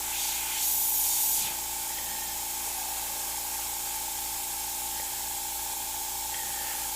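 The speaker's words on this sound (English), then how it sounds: "And all of a sudden your brush will just spray beautifully." An airbrush sprays paint while freehand shading a skull and female figure. A short, loud burst of hissing spray comes near the start, then fades to a quiet steady background.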